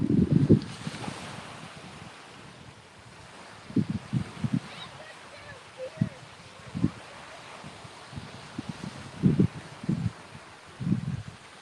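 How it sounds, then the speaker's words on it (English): Gusty wind buffets a beach during early-morning surf fishing, with surf rolling underneath and low rumbling wind bursts hitting the microphone intermittently; faint talk in places. "It's pretty windy."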